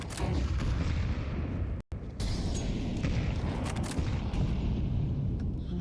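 A barrage of grenades and utility explodes in a Counter-Strike match, a loud, continuous rumble of booms and bursts with one brief drop to silence partway through.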